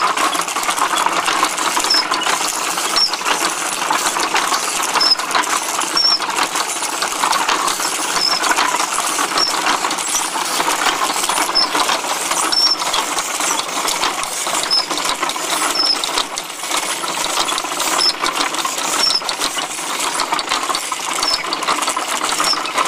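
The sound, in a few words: hand-cranked wooden machine with chains and sprockets running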